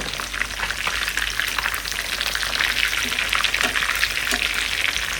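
Fish fries in hot oil and is turned from side to side, a continuous crackling sizzle with scattered pops and spatters, close and steady throughout.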